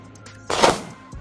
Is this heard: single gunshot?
yes